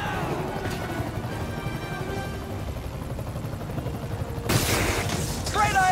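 A helicopter in the video game Spider-Man PS4 gives a continuous, droning rotor roar. Near the end, loud crashes and gunfire-like impacts break through.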